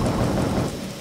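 Heavy rain pours steadily outdoors beside a campfire, with a deep rolling rumble of thunder underneath, loud and continuous throughout.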